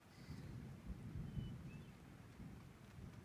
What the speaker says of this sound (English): Thunderstorms in the tent. You can kind of hear it start to sprinkle now.